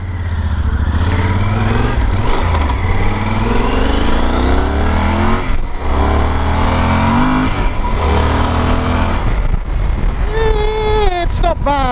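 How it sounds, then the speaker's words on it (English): Yamaha Super Tenere motorcycle accelerating on a cold test ride along twisty roads, a loud continuous engine drone rising and falling with throttle, wind rushing throughout, heard from the rider's position. "I just leaned on the throttle there slightly, but acceleration isn't bad."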